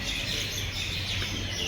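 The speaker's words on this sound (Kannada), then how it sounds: "ಪಕ್ಷಿಗಳು ನೋಡಿ ಹೆಂಗ್ ಸೌಂಡ್ ಮಾಡ್ತವೆ" Birds chirp outdoors on the way to a school, faint high twitters over a steady low hum in a very short stretch.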